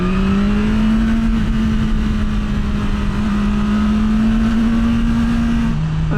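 A 2025 BMW S1000R Sport naked motorcycle holds a loud, steady engine drone while being ridden, its pitch rising slowly and then dropping slightly near the end, with wind roar constant underneath.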